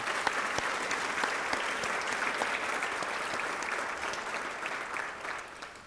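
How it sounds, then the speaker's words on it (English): Steady, sustained applause from a sizable crowd at a chamber of commerce awards ceremony, dense clapping holding at a fairly even level throughout with no talking over it. "let's give them a big round of applause"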